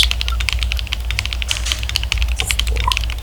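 Rapid, continuous keystrokes on a Digital Alliance Meca Warrior X RGB mechanical keyboard with custom Mario Bros keycaps, close and clacky, with a low steady hum underneath.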